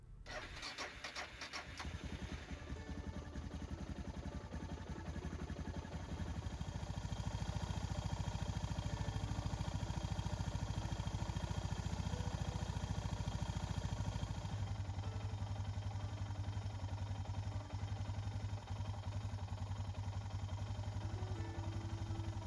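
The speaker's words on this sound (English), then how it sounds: "I'll take my bike outside, start the engine, and let it run for about 5 minutes" A Suzuki DR650 motorcycle engine fires up outdoors and settles into a steady, loud, close idle before an oil change, running continuously with no voices.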